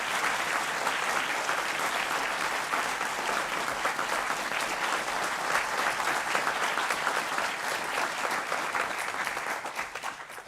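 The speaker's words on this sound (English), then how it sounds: "And will you join me in applauding your family and friends?" A large audience at a university graduation ceremony in Lampeter applauds family and friends with sustained, dense clapping that stays loud and even throughout before easing slightly at the end.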